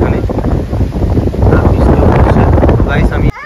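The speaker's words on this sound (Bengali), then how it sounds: "প্রচুর পরিমাণে হাওয়া হচ্ছে এখানে" Strong wind roars and buffets the microphone outdoors during a storm with rain and lightning over an open field. The gusting is loud, close and continuous throughout.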